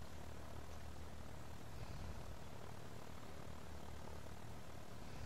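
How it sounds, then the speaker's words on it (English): A propeller aircraft takes off in the airport simulation game Airport Madness 3D, heard as a steady, broad engine drone that holds level throughout without any voices. "Copper flight 976, clear for takeoff."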